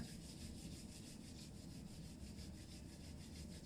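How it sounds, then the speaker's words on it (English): Palms rubbing briskly together at the close of a yoga practice, a soft, continuous dry swishing friction held evenly throughout, quiet and close, with no talking. "rubbing your hands together"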